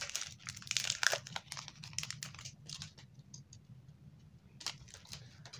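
Foil wrapper of a Pokémon trading card booster pack crinkling and tearing in close, sharp bursts, busy at first and then thinning to sparse rustles and a final crackle.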